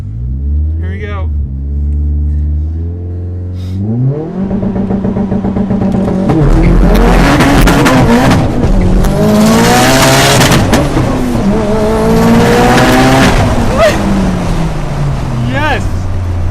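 An all-wheel-drive 772 hp Mitsubishi Lancer Evolution X revs low, then roars hard into a loud, sustained launch with rising and falling pitch as it shifts, voices faintly underneath.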